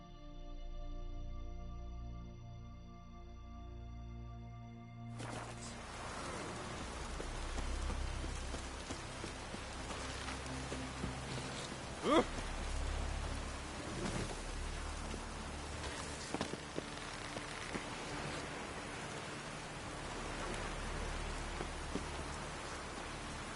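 Steady rain in The Witcher 3 video game patters on a surface, a constant hiss with scattered louder drops and a sharp crackle midway, no voices.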